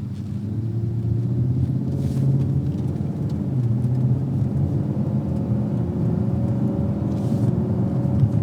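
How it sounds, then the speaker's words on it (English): Stock turbocharged Ford Mustang engine accelerating with turbos spooling, a steady loud low rumble with rising engine tones throughout, no talking. "even the turbos just spooling up right there at atmosphere, it definitely feels a little bit sportier"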